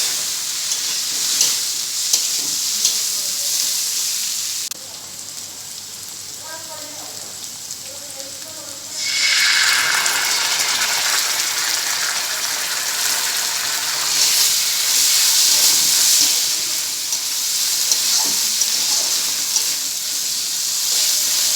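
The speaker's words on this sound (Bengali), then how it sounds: "এই 3টি দেওয়ার পরে আর একটু ভালো করে ভেজে নেব" Chow mein noodles with chili and tomato sauce sizzling and being stir-fried in a hot pan, a steady bright hiss that drops briefly, then swells louder as ingredients go in and tossing continues.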